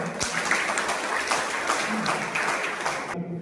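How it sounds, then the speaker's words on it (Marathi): An audience at a felicitation ceremony gives steady, dense applause honouring a guest, continuous and even throughout before cutting off abruptly at the end. "आपण सन्मान करताना आधी टाळ्या करूया ऍडव्हान्स मध्ये"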